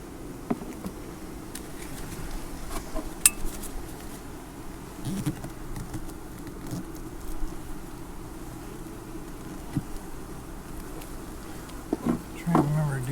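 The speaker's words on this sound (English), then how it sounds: "a lot of bees in here" Honey bees buzz steadily from an open hive during a September inspection, a low continuous drone with scattered nearby flyby whines, a few soft knocks and handling sounds throughout.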